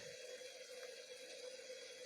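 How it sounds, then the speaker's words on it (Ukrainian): Boiled water being poured off during gold refining, a quiet steady trickling stream of liquid, faint and continuous with no talk. "злю цю воду, бо я вже прокипятив"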